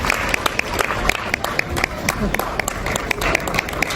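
Crowd applause at a festival event in Dubai honoring the Consul General, crisp sharp claps in an uneven rhythm over a busy crowd background, with people talking through it.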